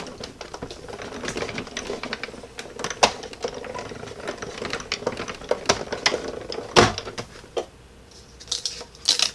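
A die cut machine cuts card stock for a layered 6 x 6 card. It gives off a close, busy stream of clicking and rattling ticks, with a few sharper clacks scattered through and no speech.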